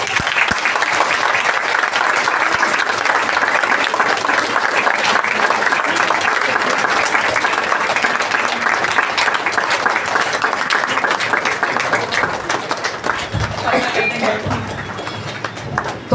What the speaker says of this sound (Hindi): देखिए कितनी तालियां बजती हैं।